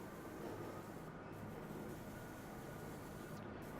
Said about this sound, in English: I always love this rail journey at the start.